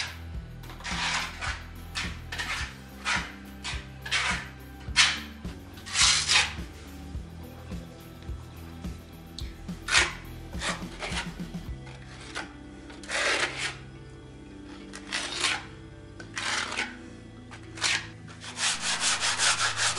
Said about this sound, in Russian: Я завершаю штукатурку со шпатлевкой в труднодоступном месте, в частности за трубами отопления, шлифовкой при помощи специального приспособления и наждачки